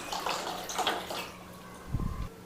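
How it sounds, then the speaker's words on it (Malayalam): Nannari juice pours and splashes into a bowl in short bursts, with a quick gurgling glug near the end; no talking. "കുറച്ച് നറുന്നണ്ട് ജ്യൂസാണ് ഞാൻ ഒഴിക്കുന്നത്"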